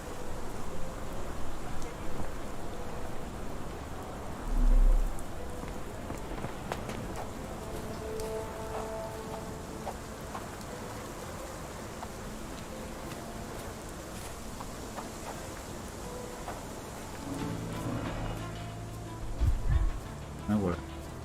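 Steady rain falls in the video game Sherlock Holmes The Awakened, a continuous soft hiss running throughout beneath players talking and occasional game sounds.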